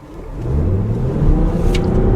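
Lexus GS450h hybrid car pulling away from a stop, a low engine hum climbing in pitch under steady road noise, close and building in loudness, with no talking.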